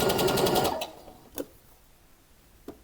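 A sewing machine runs fast and steady while hemming a summer dress, then stops abruptly, leaving a couple of sharp isolated clicks in a quiet room.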